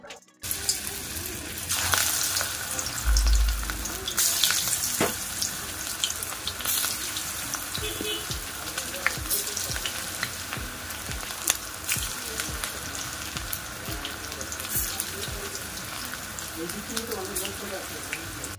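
Coriander leaf pakoras in gram flour batter with rice flour, onion and green chilli frying in a home kitchen, giving a continuous crackling sizzle with clatters, knocks and running-water sounds mixed in.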